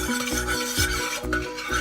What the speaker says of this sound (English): give that a good mix up